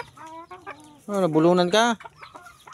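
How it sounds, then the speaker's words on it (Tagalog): Backyard chickens at feeding time cluck and squawk close by in a burst of loud, rising calls, with softer clucks before and after, while someone speaks briefly. "Mababait itong mga manok na to."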